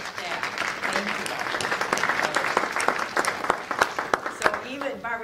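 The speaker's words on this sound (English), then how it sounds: "So let's applaud her and her staff." Audience applause during a keynote at a conference, sustained clapping from a crowd that grows more uneven toward the end while a voice speaks over it.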